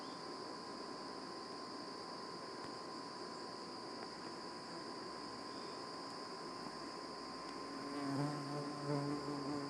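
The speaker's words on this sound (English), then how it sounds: "I got a bee on my glasses. Then another one hovering about," Bees buzzing around outdoors, a faint steady drone with a bee hovering close by near the end, while an insect whine holds underneath.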